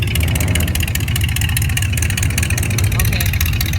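A loud old car's engine idles at a classic car show, a dense steady rumble with a rapid pulsing throb that continues close-up throughout while people talk over it.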